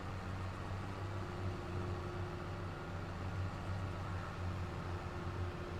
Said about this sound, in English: Hop into our Massey Ferguson and just start heading around.